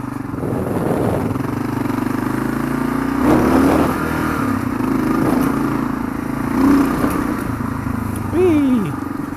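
A Kawasaki KLR motorcycle engine roars up close as the rider revs it and pops a wheelie, with the pitch rising and falling over a steady drone. A loud voice whoops and shouts over the engine.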